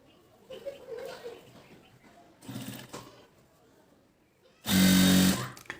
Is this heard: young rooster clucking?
no